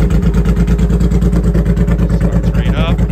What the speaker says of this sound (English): And now I'll give it a start.